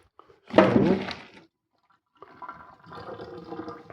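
Liquid drains off tomato pasta in a kitchen pot, first a short loud gush of pouring water, then after a pause a softer steady trickle and splash that runs on to the end.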